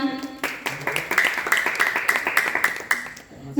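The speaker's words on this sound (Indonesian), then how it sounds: "Tepuk tangan semuanya." An audience at a literacy community talk claps to welcome the guest speaker, a brisk run of overlapping handclaps lasting a few seconds, moderately loud and fairly close, with a voice briefly audible at the start.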